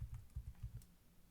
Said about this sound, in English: I'm typing Sally, nothing happened